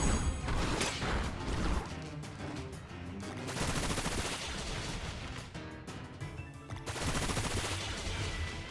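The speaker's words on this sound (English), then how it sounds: "we'll do Bullet Seed here" Pokémon Violet's Bullet Seed attack, a rapid volley of punchy, crackling hits fired in quick bursts with short gaps, loud and busy with no voices.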